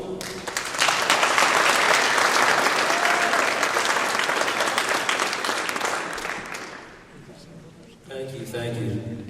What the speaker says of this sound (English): A big round of applause now for Ron Gulla.